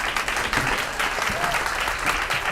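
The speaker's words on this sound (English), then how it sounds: "And Ben gets one more huge round of applause." An audience at a climate conference gives sustained, dense applause, loud and continuous from start to finish.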